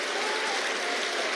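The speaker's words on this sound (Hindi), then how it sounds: "जानते हो तो ताली बजा दो भाई," An audience at a political speech at a civic gathering in Jaipur, Rajasthan, applauds in a dense, steady burst of clapping, heard from a distance for just over a second.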